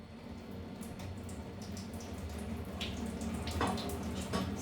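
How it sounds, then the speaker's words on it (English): Filtered water runs steadily into Alocasia dragon scale plant pots in a sink, a soft continuous splashing with a few drips, fairly quiet and close. "I'll be pouring filtered water into these plants."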